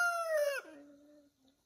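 A chicken gives a single strained, crow-like call that bends downward midway and trails off into a low fading tone, with no other sounds around it.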